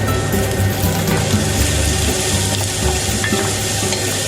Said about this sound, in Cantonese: 咁啊炒一炒啲洋葱